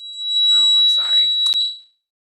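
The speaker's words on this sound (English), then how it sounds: "they're going outside to play on the patio, and our alarm is very loud" A loud home alarm beeps as children head out to the patio, a steady high electronic tone sounding throughout, with a voice and household talk underneath.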